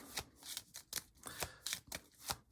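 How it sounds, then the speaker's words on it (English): A deck of board game cards is shuffled close up, a quick run of crisp riffling bursts in an irregular rhythm. "let's just shuffle these up"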